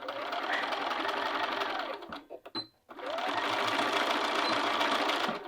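An electric sewing machine stitches a sleeve in a steady, rapid whir close by. It pauses briefly midway for a couple of soft clicks, then runs on at full speed.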